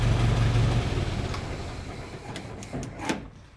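A Ford Model T engine with a worn timer and slight misfire runs with a low rumble that fades as it is shut off, followed by a few clicks and knocks nearby.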